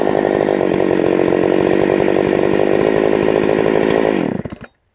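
A ported Husqvarna 272XP chainsaw with a troublesome carburetor runs loud and close at a steady high rev for about four seconds, then bogs and dies abruptly, leaving silence.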